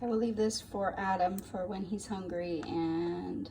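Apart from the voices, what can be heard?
No everyday noises stand out.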